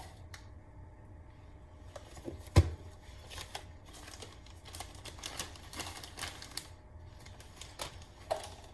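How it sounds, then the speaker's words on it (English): Pecans rattle and clatter into a mixing bowl in scattered bursts, with a louder clunk early on; no voices. "and we're gonna pour pecans."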